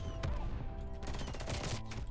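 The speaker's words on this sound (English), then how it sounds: "Dude, this thing's nasty hip firing." Rapid FFAR rifle gunfire hip-fired in a first-person shooter video game, a dense burst of shots with a few sharp accents, loud and continuous throughout.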